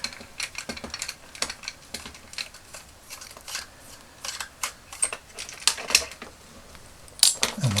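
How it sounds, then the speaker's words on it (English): A small screw is worked loose from the upper leg of a Transformers G1 Soundwave toy, giving a run of faint, close ticking and clicking bursts in an otherwise quiet room. "the upper leg is just held together with 1 screw, so we will remove that as well"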